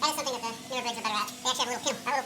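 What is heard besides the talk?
No everyday noises stand out.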